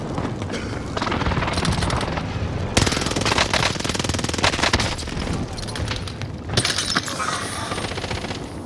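Video game gunfire: rapid bursts of automatic weapon fire rattle almost continuously, with heavier booming shots mixed in and short pauses between volleys.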